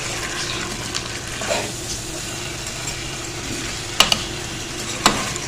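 Frozen cubes stirred into mutton karahi in a pan, a quiet ongoing sizzle and stirring with a few sharp clinks of utensil on metal near the end.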